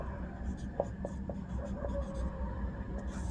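Chalk or marker scratches across a classroom board in quick short strokes, close and fairly clear, with a low murmur of room noise underneath.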